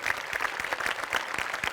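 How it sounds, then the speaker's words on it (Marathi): A studio audience at the Marathi comedy show Maharashtrachi HasyaJatra breaks into strong applause, close and energetic, with sharp individual claps popping out of a dense, even clatter. "जोरदार टाळ्या"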